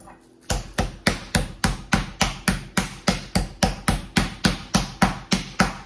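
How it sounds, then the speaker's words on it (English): A covered chicken breast is pounded flat in a steady run of sharp, evenly spaced whacks, about three per second, loud and close, with no talk. "And then I'm gonna cover it and we're gonna hammer it."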